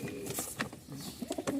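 Pigeons, a mixed group of white and black birds, give soft low coos in short bursts, fairly faint and close by, with no talking.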